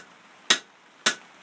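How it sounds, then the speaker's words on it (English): Two sharp, ringing hammer strikes on hot metal at a blacksmith forge, evenly spaced about half a second apart, each one loud and close with a short metallic decay. "take the hammer."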